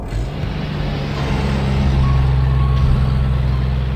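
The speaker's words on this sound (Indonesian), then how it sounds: "Mobil kembali melaju." A car pulls away down a road with a loud, steady engine rumble, close by and rising slightly as it goes, with no voices over it.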